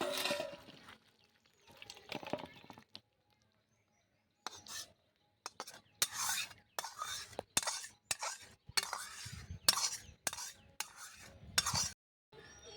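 Pointed gourd and prawn curry stirred in a pan with a spoon: a run of close, repeated scraping strokes with clinks against the metal and a faint sizzle, broken by brief pauses.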